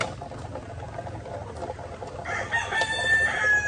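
A farm flock of laying hens clucking nearby, with a rooster-like crow rising in the last second over a constant background hum.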